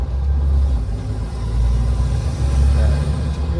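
Steady low engine rumble of a car driving along a road in Indonesia near Indralaya, stuck behind a slow truck, with a continuous drone and slight swells in loudness throughout.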